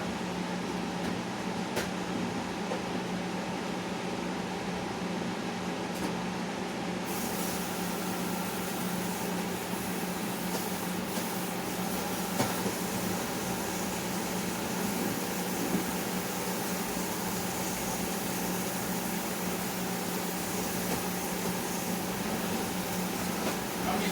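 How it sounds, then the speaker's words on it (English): A vacuum cleaner runs on a home floor, cleaning up corn debris in a kitchen: a steady, loud whooshing drone that holds constant for the whole stretch with no voices over it. "I'm vacuuming them up."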